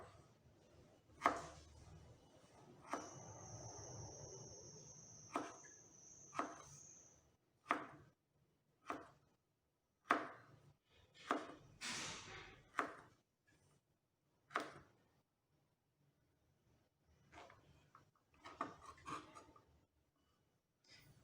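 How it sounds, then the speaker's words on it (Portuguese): A knife chops vegetables into small 5 mm cubes on a board, giving a series of sharp, close knocks at an uneven pace, some in quick bursts and others spaced apart, with no talking. "E vamos cortar pequenos cubos de 5 milímetros."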